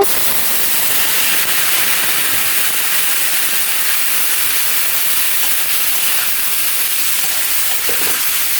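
Chopped stalks and potatoes dropped into hot oil tempered with panch phoron and turmeric: a loud, even hiss of frying that holds steady throughout, with no voices.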